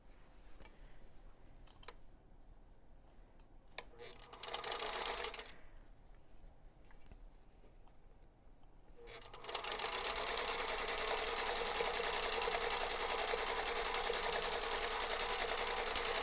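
Sewing machine stitching a quilt block seam, with a short burst of stitching early on, then a steady run of stitching from about the middle to the end, over faint ticking in a quiet room.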